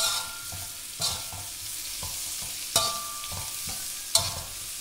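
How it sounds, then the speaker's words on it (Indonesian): Honey-fried bamboo shoots stirred in a pan with chili, anchovies and ginger, a soft steady sizzle broken by scraping stirs about once a second, close and fairly quiet with no talking. "Goreng sikit kita punya apa ni, rebung ni. Kita kena kacau lah."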